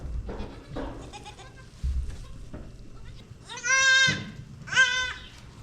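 Goats that have escaped their pen on a meat goat farm bleat in two loud, wavering calls near the end, following softer scattered shuffles and faint bleats.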